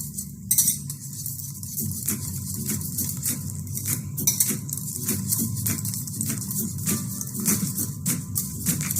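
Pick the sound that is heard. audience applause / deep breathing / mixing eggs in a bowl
mixing eggs in a bowl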